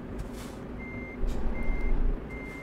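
Reversing beeps from a truck in Euro Truck Simulator 2 sound three times at a steady interval over a low idling engine rumble and faint air hiss, with no voices.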